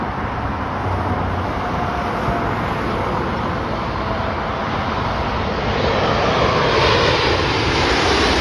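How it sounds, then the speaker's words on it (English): An American Airlines Boeing 787-9 Dreamliner arriving at O'Hare from London Heathrow, a loud continuous jet roar close by that swells slightly toward the end. "we got a Boeing 787-9 Dreamliner, American Airlines from London Heathrow International Airport to OHare."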